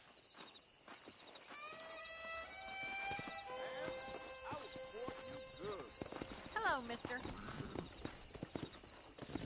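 Horses clip-clopping and whinnying on a ranch in the video game Red Dead Redemption: hooves thud steadily nearby while several drawn-out neighs rise and fall, and a man's brief greeting is spoken over them.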